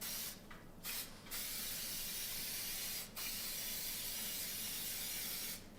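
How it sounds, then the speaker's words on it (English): Cooking spray hisses onto a mini muffin tin in several short, close bursts, two quick ones, a pause, then a single one and a longer final spray, with faint room noise between them. "Give our little guys here a good spray."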